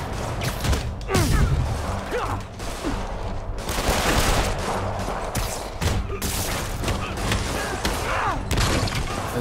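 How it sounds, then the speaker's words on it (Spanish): Bursts of machine gun fire rattle through a busy combat scene in Marvel's Spider-Man on PS4, mixed with impacts, crashes and other game effects, with a voice faintly underneath. "cuidado con el de la ametralladora"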